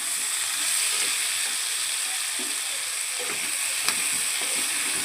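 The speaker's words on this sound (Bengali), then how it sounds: "কাঁচা লঙ্কাগুলোও দিয়ে দেওয়া হলো। ভালো করে এবার নাড়ি।" Potato, cauliflower, carrot and green chillies fry in a pan while being stirred, giving a constant close hiss of sizzling oil broken by a few light scraping clicks, with no voices.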